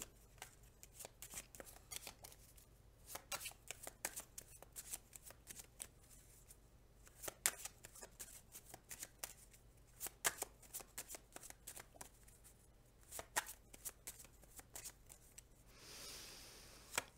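Tarot cards being shuffled by hand at close range, a long run of quick papery riffles and flicks in uneven bursts, fairly quiet, with no talking.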